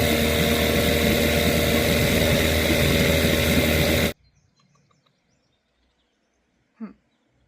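A 6hp Johnson outboard motor runs loud and close with a steady idling drone, then cuts off abruptly partway through, leaving near silence broken by one short faint chirp.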